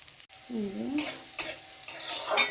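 Boiled potatoes fry in a pan with a close, crackling sizzle that surges in bursts as a utensil scrapes and stirs them, with a short stretch of voice early on.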